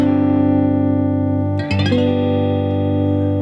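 A sustained electric guitar eleventh chord rings out, briefly broken by a short strum or re-attack midway, then continues ringing with effects-laden tone.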